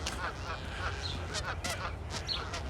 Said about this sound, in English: Geese having conversations and disputes up here.